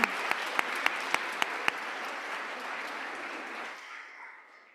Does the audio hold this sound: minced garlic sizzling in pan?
no